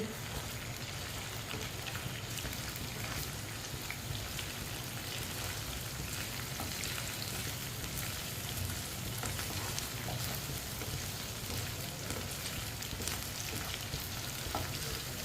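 Chopped okra (bhindi) frying in hot oil for dahi bhindi gives a dense, even, rain-like sizzle with soft spoon stirring running through it.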